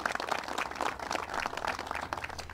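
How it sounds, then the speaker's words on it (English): Audience applause at a press event with the New York governor, steady dense clapping from a crowd lasting the whole stretch, moderately loud and continuous with no talk over it. "Special round of applause to Fred and Lee"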